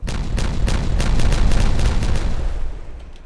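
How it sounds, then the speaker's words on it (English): Detonation in the colony-building game Timberborn: a string of rapid, rumbling blasts that roll together into a loud, continuous boom for about three seconds before fading out. "let's detonate that"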